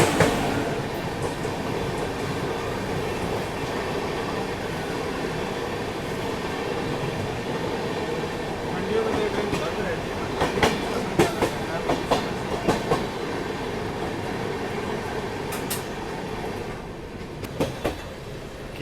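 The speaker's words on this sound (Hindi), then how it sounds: "इतनी देर में डबल डेकर एक्सप्रेस आ गई आनंद विहार लखनऊ।" Anand Vihar–Lucknow double decker express train passing close by, a continuous loud rumble with rhythmic clickety-clack of wheels over rail joints and sharp metallic clanks toward the end.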